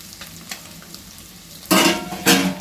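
Egg, bell pepper, ginger and garlic sizzle in a hot pan with light stirring for egg fried rice, then two loud bursts of crackling hiss as more ingredients hit the oil.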